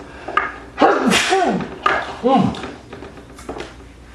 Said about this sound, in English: Gonna sneeze.